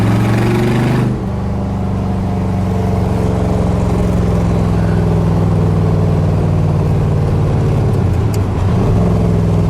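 A 1965 Chevrolet Corvette coupe's fuel-injected 327 V8 rumbles loud and close as the car drives, with a deep throaty exhaust drone and a brief shift in pitch near the start.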